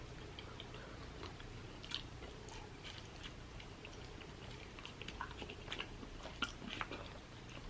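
Close, quiet chewing of king crab during a seafood boil, with soft wet crunches, smacks and small clicks going on steadily with no talking.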